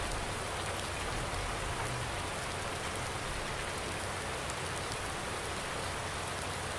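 Steady rain in the video game Farm Sim 19, a dense even hiss of drops on surfaces, continuous and loud, with no break or voices.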